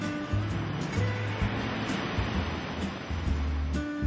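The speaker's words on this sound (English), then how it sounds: "a spacious lanai to enjoy the sounds of the ocean at night" Continuous roar of ocean surf washing in on Sanibel Island, with a broad, steady wash of water, plus low humming tones and faint high chirps in the background.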